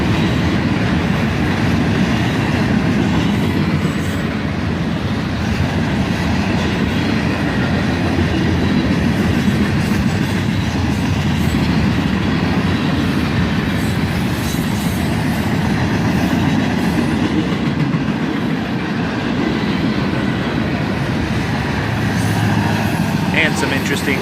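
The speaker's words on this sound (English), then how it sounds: "And now we're into a nice cut of steel coil cars." A long freight train of steel coil cars rumbles by nearby in a loud, unbroken roar, with rhythmic wheel clatter and occasional faint squeals.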